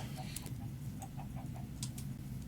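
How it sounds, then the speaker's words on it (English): Chickens in a video game cluck in short, scattered bursts over a steady low hum. The clucks are faint to moderate and come at irregular intervals. "There is somewhere in these lands a pit filled with chickens."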